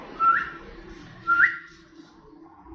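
A pet bird gives two short rising whistles about a second apart, clear and close in a quiet indoor room, followed by near silence.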